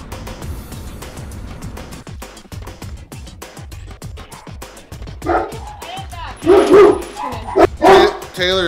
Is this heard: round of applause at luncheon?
no